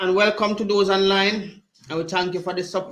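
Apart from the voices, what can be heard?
None of the usual background noises is heard.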